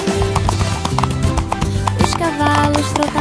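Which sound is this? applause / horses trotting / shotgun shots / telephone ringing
horses trotting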